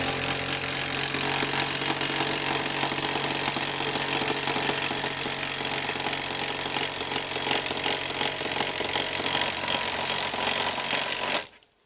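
A scissor jack being cranked to lift a car produces a loud, steady mechanical whirring and grinding drone that runs unbroken for about eleven seconds, then cuts off abruptly.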